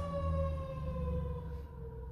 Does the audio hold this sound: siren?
yes